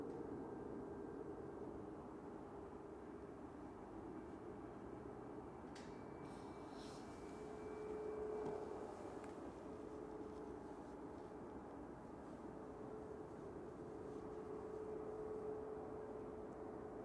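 A Ryanair Boeing 737-800 arriving from Shannon touches down at Manchester Airport at night, a faint distant jet roar with a soft swell and steady broadband rumble, heard from afar without voices.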